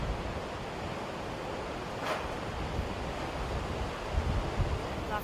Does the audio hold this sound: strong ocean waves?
yes